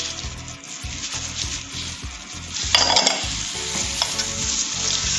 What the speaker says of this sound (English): So I'll just whisk this together.